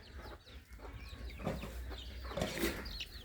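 Chickens cluck in short, scattered calls while pecking at duck feed of rice bran, grain and mineral mix, close by over a steady farmyard background.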